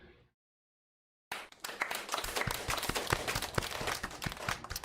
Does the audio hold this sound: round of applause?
yes